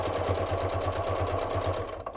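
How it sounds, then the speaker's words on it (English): A sewing machine top-stitches the edge of a fabric coaster, its needle running in a fast, steady, even rhythm close to the mic before stopping near the end. "that's how you top stitch the edge, just like that"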